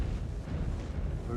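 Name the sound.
weapons fire in the video game Mechwarrior 5: Clans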